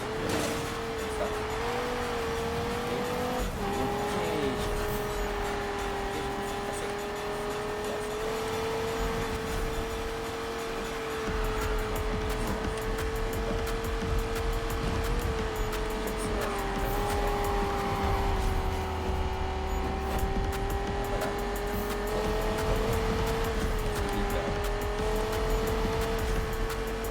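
Car engine in the Need for Speed racing game on Xbox One, a sustained loud droning hum with pitch shifts as it accelerates and shifts, and occasional tire squeals, continuous throughout.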